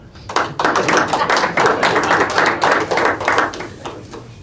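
Several audience members clap at a city council meeting, a short sparse round of distinct hand claps that builds, holds briefly and tapers off, close and fairly loud with no talk over it.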